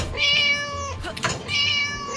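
Two distinct cat meows ring out in a video game about saving a cat from an angry teacher, with a brief knock or click between them against a quiet game backdrop.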